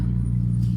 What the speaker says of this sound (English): you got a noisy enough truck?